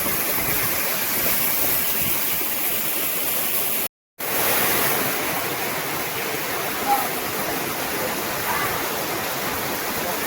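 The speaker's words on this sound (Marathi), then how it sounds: "आता धबधबा आहे इकडं धबधबा" A waterfall in the Konkan near Murud Janjira roars steadily, a dense, continuous rush of falling water, briefly cutting out for a moment before resuming just as loud.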